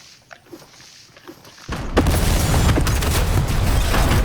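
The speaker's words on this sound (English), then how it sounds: "all of our nades just blew up the gas station" Grenades in a video game explode a gas station, and after a short quiet stretch with faint taps a loud, dense roaring blast erupts and keeps going until the end.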